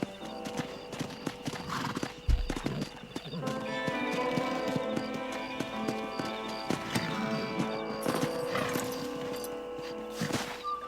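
A horse in the video game Red Dead Redemption clip-clops with rhythmic hoofbeats and whinnies. A game music score plays throughout, and the sounds stay moderately close.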